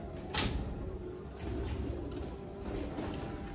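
Old Sialkoti pigeon cooing in a loft, low soft coos under a steady background hum, with a brief sharp knock near the start.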